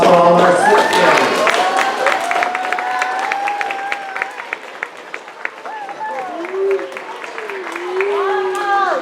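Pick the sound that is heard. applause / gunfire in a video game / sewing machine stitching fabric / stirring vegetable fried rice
applause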